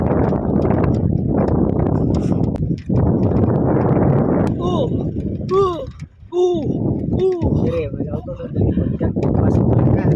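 Horse hooves clip-clop over a rough road at a communal ranch in Malaybalay, Bukidnon, amid steady wind noise, with people talking throughout and a few tonal cries briefly rising above.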